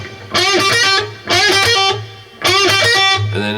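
Heavily distorted electric guitar plays a riff in three loud, bright phrases of quick picked notes and pull-offs, with short pauses between, no voices.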